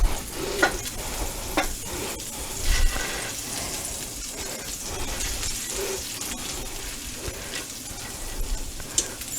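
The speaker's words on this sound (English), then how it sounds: "Now in there, we're going to melt. It's a total of half a stick of butter." Half a stick of butter melting in a hot pan, a continuous close sizzle and crackle, with a spoon or spatula scraping and stirring across the bottom at intervals.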